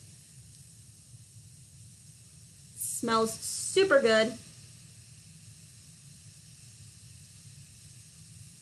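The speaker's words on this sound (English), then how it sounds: "You can really hear the fizziness." An old homemade bath fizzy fizzes in water with a faint, steady hiss that runs through the clip, while a person speaks briefly in the middle.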